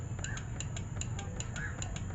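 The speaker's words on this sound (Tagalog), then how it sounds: "Narinig ba yung ugong ng relay?" A car horn relay humming as the horn switch is pressed during troubleshooting, a steady low hum with faint repeated ticks, close and fairly quiet, with no talking.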